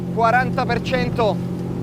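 A Ranieri Next 255 LX motorboat engine runs at speed, around 5,200 RPM, producing a steady droning hum under a voice speaking close by.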